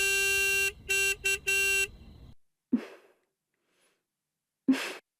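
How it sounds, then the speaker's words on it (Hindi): A vehicle horn honks outside in several short blasts, then two short bursts that sound like breaths or snorts follow in quiet. "कोई हॉर्न बजा रहा है बाहर।"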